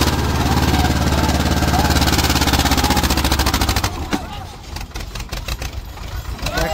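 Tractor engines chug along a crowded Kedarnath trek road, a loud rhythmic mechanical drone that dominates before dropping away, leaving sharper knocks and scattered noise behind.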